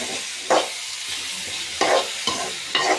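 Chicken curry sautéing in a pan for a Sri Lankan style dish, with a steady sizzle and four distinct stirring scrapes spaced at irregular intervals, close and fairly loud.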